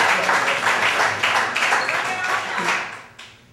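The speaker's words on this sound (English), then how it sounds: "Let's give this gentleman a great round of applause" Audience applause at a poetry reading in the Bayview Branch Library, a steady wash of clapping hands that holds for several seconds and trails off near the end.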